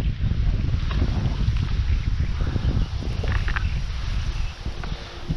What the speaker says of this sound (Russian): Теплая, конечно, погода, но ветер ужасный.